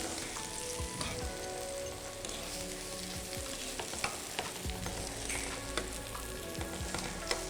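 Eggplant (brinjal) slices sizzle and fry steadily in a pan, a constant crackling hiss close by with occasional soft clatter from turning, no talk.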